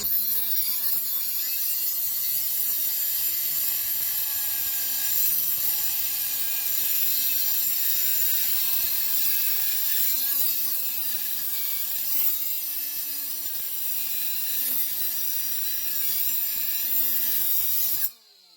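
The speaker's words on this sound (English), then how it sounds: "Now we're just going to make a quick cut into this to show you what I can do with the cutoff wheel." Milwaukee die grinder spinning a cutoff wheel through a cut, a steady high-pitched whine with a bright, dense grinding hiss that holds for about eighteen seconds, wavering slightly in pitch under load, then stops abruptly.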